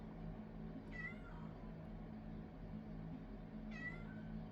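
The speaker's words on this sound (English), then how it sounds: "Oh, this cat's seeing spirits." A cat meows twice, each a short rising-falling cry separated by a few seconds, heard over a constant low hum of indoor background noise with no speech.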